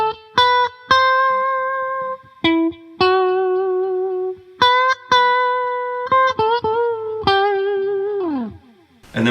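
A distorted electric guitar plays a solo phrase from a song, sustained notes with pitch bends and vibrato, ending in a long bent note that slides down.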